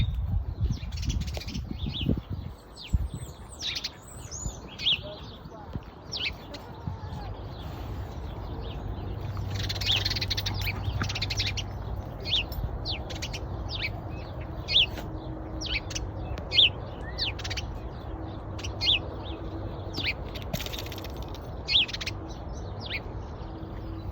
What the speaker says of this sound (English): Listen to the birds here.